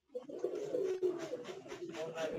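Pigeons, some of them sick, coo softly nearby in short, low, throaty phrases that repeat irregularly at a faint level.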